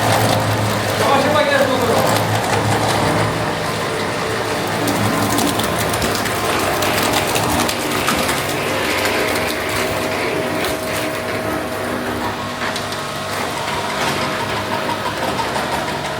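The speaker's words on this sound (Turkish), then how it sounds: "Bu dolap. Çamaşır makinesi. Çamaşır makinesi." A washing machine motor's steady mechanical drone with a whirring, ratcheting texture runs throughout, close and fairly loud, with people talking over it.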